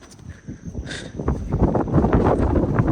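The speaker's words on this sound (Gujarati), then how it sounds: "બસ જાય છે એટલી સ્પીડમાં પવન" Strong wind buffets the microphone on Girnar mountain during the monsoon, a broad rushing roar that builds and stays loud with gusty rumbling throughout.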